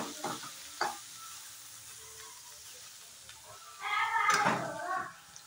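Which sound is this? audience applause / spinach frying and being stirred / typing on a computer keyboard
spinach frying and being stirred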